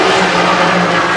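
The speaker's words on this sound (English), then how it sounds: "I think those were the Cooper Bristols. They sound amazing." A historic F2 Cooper Bristol race car engine roars loudly and steadily at close range, a dense continuous drone with no pauses.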